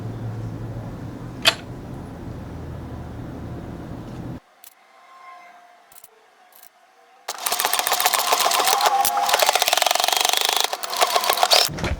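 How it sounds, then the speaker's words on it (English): A sewing machine runs a straight stitch across the bottom of a quilted ruffle tote bag. A steady low hum gives way to a quiet pause, then a loud, rapid, even chatter of stitching runs to the end. "then you will do a straight stitch all the way across"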